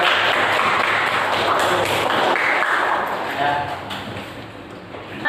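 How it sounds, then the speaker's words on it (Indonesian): Classmates clap in a classroom, a dense burst of applause running through the whole stretch and tapering slightly toward the end. "kita berikan aplaus dulu"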